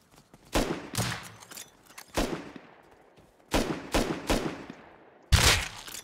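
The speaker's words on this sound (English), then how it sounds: "Let me shoot towards him." Rapid bursts of gunfire in a first-person shooter video game, four or five loud clusters of shots separated by short pauses, each burst fading with a trailing echo.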